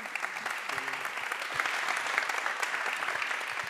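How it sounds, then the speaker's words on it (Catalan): An audience welcomes Albert Barquer Duran with warm applause at an arts talk, a dense steady clapping that swells slightly midway, with a brief tonal murmur early on. "el rebeu amb un aplaudiment"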